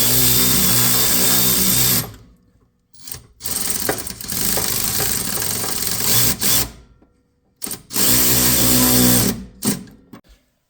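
A power tool cinches up the sway bar bolts of a car during a rear handling kit install, whirring in three loud, sustained bursts separated by short pauses and a few quick, clipped pulses.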